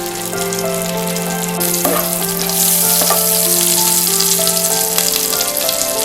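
Garam masala, cumin and mustard seeds sautéing in hot oil and butter in a pan, a loud, close, continuous crackling sizzle that grows busier partway through, with a few stirring clicks.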